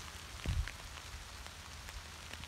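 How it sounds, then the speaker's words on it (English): Heavy rain pours down outdoors in a garden as a steady, soft patter of drops on surfaces, with one brief louder thump near the start and no voices. "Pouring down rain now"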